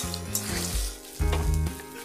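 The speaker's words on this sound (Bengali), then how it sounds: "এবারে যে বাকি মশলাটা দিতে বাকি আছে সেটা দেব।" Spice paste goes into frying vegetables for a fish curry, hissing and sizzling close up in uneven surges, with a low tonal hum underneath.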